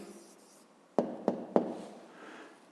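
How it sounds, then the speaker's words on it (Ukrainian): A pen writes out a math answer on paper: faint scratching, then three crisp strokes or taps in quick succession, trailing into softer scribbling, close and quiet. "а тепер записуємо відповідь. Пишемо відповідь."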